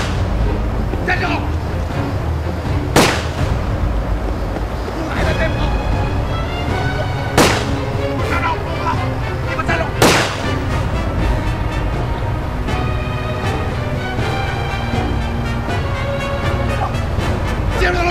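Gunfire in a Chinese drama chase scene: three sharp, loud bangs spaced a few seconds apart, heard over a continuous music score.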